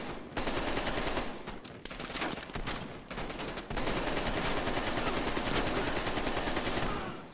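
Sustained gunfire in Call of Duty Black Ops Cold War, a dense, loud barrage of rapid automatic shots and bursts rolling almost without pause, with a brief lull near the start and midway.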